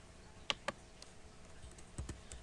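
Keyboard keys clicking during Python calculator coding, a few scattered sharp taps including an enter and a backspace press, close and fairly quiet, no voices.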